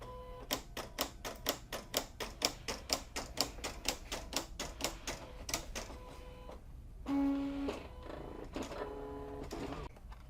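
A Silhouette CAMEO cutting machine cuts Siser Brick vinyl with a fast run of sharp, evenly spaced clacking taps, then a brief motor whir and softer tapping, quiet and close with no voices.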